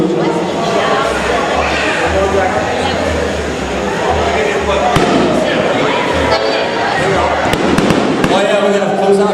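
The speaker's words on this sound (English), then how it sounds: "we're gonna close out with fireworks" Fireworks closing an ethnic festival pop and thud in scattered bursts, mixed with crowd noise and talk throughout.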